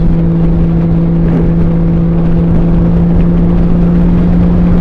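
A Honda Valkyrie motorcycle cruises along the highway, its engine a loud, steady, unbroken drone with a constant hum and wind roar throughout, and no talking.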